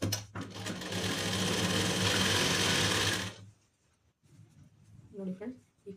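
Sewing machine stitching a blouse lining piece, a steady close-up whir running for about three seconds and then stopping, followed by quiet handling and a faint voice.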